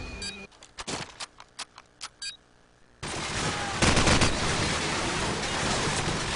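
Gunfire crackles in a competitive shooter video game: a run of sharp, separate shots comes first, then a dense, loud, continuous wash of firing from many directions.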